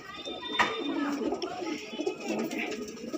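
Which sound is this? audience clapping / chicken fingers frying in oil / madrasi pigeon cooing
madrasi pigeon cooing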